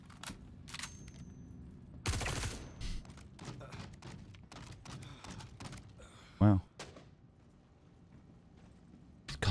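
Scattered gunfire in Star Citizen: isolated sharp shots and short bursts with gaps between them, one louder blast near the middle. Voices can be heard talking quietly in between.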